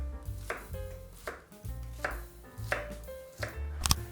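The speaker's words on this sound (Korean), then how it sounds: "마늘 오늘까지는 3개 와일드하게 한번 썰어 볼게요. 듬성듬성 그리고 샬롯" A knife roughly chops garlic and shallot on a board with a steady run of close, crisp strikes, one every half second or so. No one speaks.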